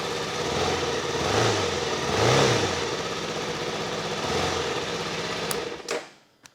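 A Suzuki DR-Z4S motorcycle engine idles with a few brief revs rising and falling, heard fairly close, before the sound cuts off at the end.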